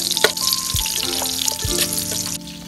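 Onions hit hot used cooking oil for pinakbet, a steady sizzle with clinks of utensils and a couple of dull thuds from stirring or adding ingredients.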